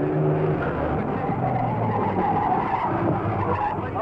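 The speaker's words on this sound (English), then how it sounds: "And here's our Ferrari, still ahead of Rossellini's." A Ferrari race car running in the 1953 Mille Miglia road race, a loud, continuous engine roar with rough tyre noise that stays close and steady throughout, with no voices.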